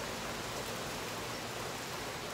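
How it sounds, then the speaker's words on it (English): Rain falls at night, a steady broadband hiss with no breaks and no voices, fairly soft and continuous throughout. "It's raining now."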